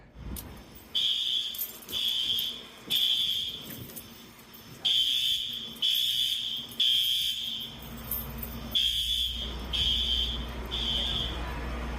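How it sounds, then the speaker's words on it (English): A building fire alarm goes off in repeated loud, high-pitched electronic bursts of about a second each, pulsing with short gaps over a low background rumble, steady and insistent throughout. "The entire fire alarm is going off."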